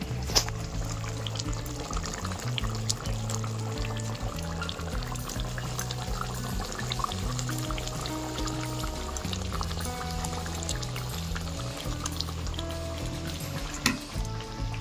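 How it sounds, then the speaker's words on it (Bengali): Pieces of boal fish go into a pot of fish curry broth already at a rolling boil, with steady bubbling and simmering that carry on without a break and stay close and fairly loud throughout. "আমার ঝোলটা ফুটে গেছে এবার মাছগুলো দিয়ে দেবো"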